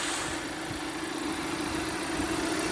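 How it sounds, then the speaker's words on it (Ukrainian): A 2019 Audi Q5 engine idles steadily, a continuous low rumble with even vibration and no voices. "робота двигуна"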